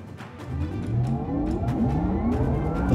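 Porsche Taycan electric car driving on the Hockenheim track on a sunny day, a rising whine with tire and road noise building steadily as it accelerates, with faint intermittent clicks and no talking.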